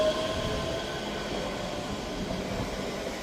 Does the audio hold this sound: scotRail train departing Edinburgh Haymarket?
yes